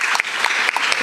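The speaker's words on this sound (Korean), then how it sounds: "우리 박수 한번 칠까요?" An audience at a youth startup concert claps in a brief, dense burst of applause, even and close throughout with no talking.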